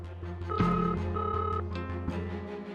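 A telephone ringback tone sounds down the line: two steady electronic tones in a row over a low background hum, with a brief thump between them.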